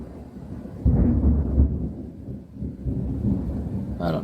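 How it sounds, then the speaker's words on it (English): Thunder from a Southeast Texas thunderstorm, a deep rolling rumble that swells in after a quiet start, grumbles on for several seconds and fades slightly before a faint patter near the end. "That was good thunder. We're getting a thunderstorm now."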